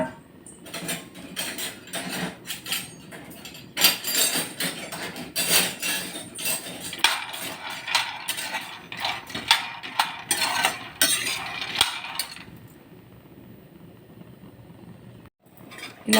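Peanuts dry-roasting on a hot flat pan, turned over and over with a spatula that clinks and scrapes in irregular bursts, then quiets to a faint hiss near the end.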